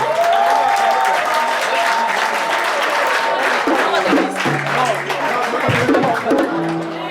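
Sustained applause from a wedding audience, loud and steady for several seconds, with scattered voices and a few tonal sounds mixed in.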